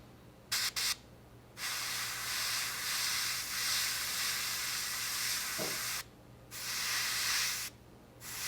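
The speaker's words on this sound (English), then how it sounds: "I'm going to go ahead and spray the deck." Spray paint hisses onto the deck part of a Tamiya P-38F Lightning model airplane kit in several bursts: two short taps, then a long steady spray, a pause, and two more sustained hisses, close and moderately loud.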